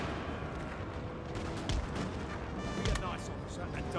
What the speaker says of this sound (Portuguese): disparo das carabinas